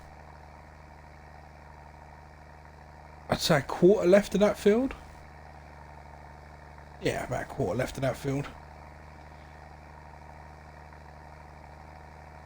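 Tractor engine labouring in Farming Simulator 22, a low steady rumbling idle throughout, with someone talking over it twice.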